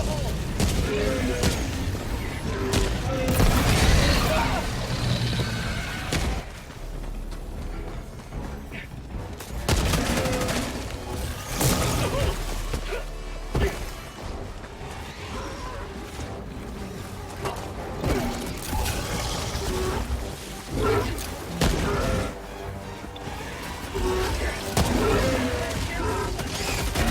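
An air support strike and gunfire in the video game Helldivers 2: heavy rattling bursts and booming impacts come in waves, loud and dense, with brief game voices mixed in.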